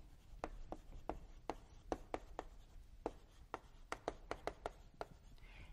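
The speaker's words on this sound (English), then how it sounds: "I'll write this for you" Chalk or marker strokes on a lecture-hall board, a series of faint, crisp taps and short scrapes in an uneven rhythm, quiet against a soft room hum.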